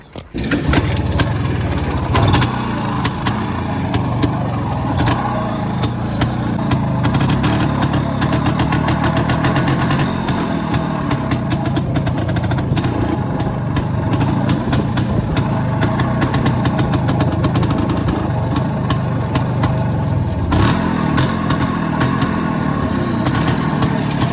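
IZh Planeta motorcycle engine running steadily and loud throughout, a continuous close idle and rumble with slight surges as riders set off, no talk over it.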